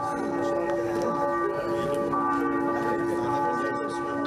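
Steady, resonant ringing of church bells with sustained overlapping tones, a continuous wash of loud metallic sound with no pauses.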